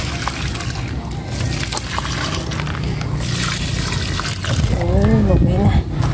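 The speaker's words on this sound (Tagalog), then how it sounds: "Ubusin ko lang yung tubig. Diligan ko rin yung halaman ko doon sa may harap." Leftover water poured out onto plants at the front of a house, a steady splash and trickle running throughout, with a person talking over it near the end.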